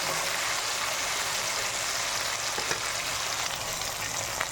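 Okra sautéing in hot oil for sambar, a dense, even sizzle filling the whole stretch, loud and close with no pauses.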